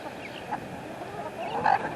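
A flock of backyard chickens with young roosters gives soft, scattered clucks and squawks at moderate distance, with one louder call near the end.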